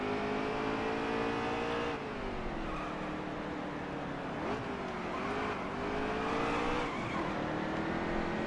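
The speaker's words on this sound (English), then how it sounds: "Spins its wheels in 4th." A NASCAR truck in the NASCAR Heat 3 racing game roars steadily at high revs, its engine pitch dipping and climbing as the wheels spin, with a brief squeal near the middle. It is loud and continuous, with no talk over it.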